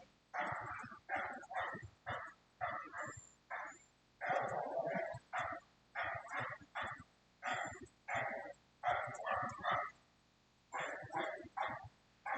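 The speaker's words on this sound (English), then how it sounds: "There's a dog." A dog barks repeatedly in short bursts at moderate distance, a steady run of barks with brief pauses throughout, heard in a backyard setting with no talk over it.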